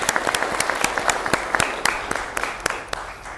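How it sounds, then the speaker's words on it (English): A seated audience at an annual health-policy conference applauds in a steady patter of many hands, with a few sharper individual claps standing out near the front, fading slightly at the end. "they deserve a round of applause for their hard work"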